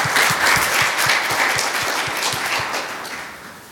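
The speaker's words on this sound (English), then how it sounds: "Another round of applause," Audience applause at a conference session, a dense steady wash of many hands clapping that fades slightly toward the end, with no talk over it.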